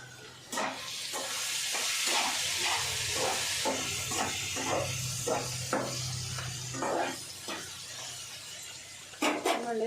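Vegetable curry of okra and ivy gourd sizzling and frying in a pan, with a steady hiss and repeated scraping, clinking stirs of a spoon at a regular rhythm, close and moderately loud.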